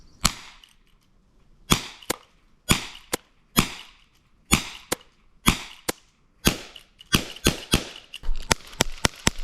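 Airsoft pistol fired at a target about 80 feet away: a dozen or so sharp, loud cracks, spaced roughly a second apart at first, then coming faster toward the end, with no talking between shots.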